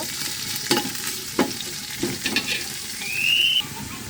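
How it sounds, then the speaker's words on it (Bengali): Chopped garlic with onion and chili fries in hot oil for shin'ni khichuri, with a steady sizzle and several sharp scraping stirs of a spoon against the pan. A brief high squeak rises near the end. "রসুন কুচি দিয়ে দেব ভালো করে নেড়ে ভেজে নেব"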